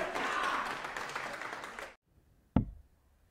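Loud darts crowd roaring in an arena, a sustained broad wash of cheering that cuts off abruptly, followed by silence and a single sharp knock.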